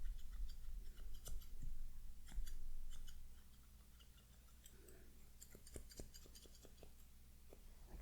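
Scissors snip close to the ear in an ASMR bowl-cut haircut, with irregular sharp clicks that bunch into quicker runs of cuts near the end, and no talking.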